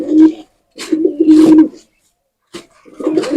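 Pigeons cooing up close in several rounded, throaty bursts separated by short pauses, with no talking.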